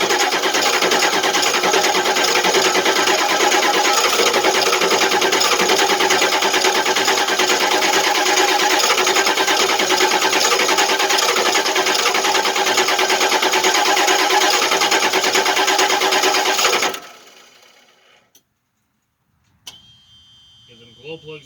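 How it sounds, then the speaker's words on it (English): A 1989 Ford F450 pickup with a 7.3 diesel engine runs after a cold start, giving a loud, steady rattling clatter for about seventeen seconds before it cuts out abruptly into near silence. "This is a cold start."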